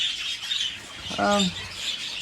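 Budgies in a backyard aviary chirp and chatter continuously, with one nearer harsh squawk standing out midway.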